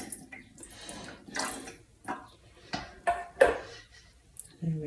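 Whey trickling and dripping from Wensleydale cheese curds in a colander over a pan in a home kitchen, soft intermittent splashes and drips close by with no talking.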